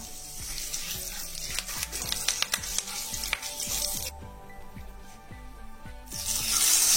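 Mustard seeds and curry leaves hit hot oil, producing a hissing sizzle over rhythmic low popping and tapping that eases midway and then swells again toward the end, with no voices.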